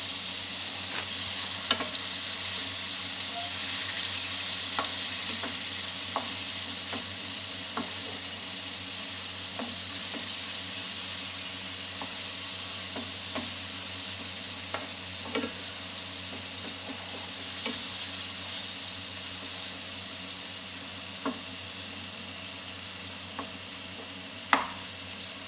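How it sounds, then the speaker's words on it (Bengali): Marinated chicken pieces for hariyali chicken frying in hot oil, a steady close sizzle with scattered pops and spatters running throughout, no voices. "ম্যারিনেট করা মাংসগুলো আস্তে আস্তে হালকা করে ওই গরম তেলে ভেজে নিয়ে তুলে রাখতে হবে"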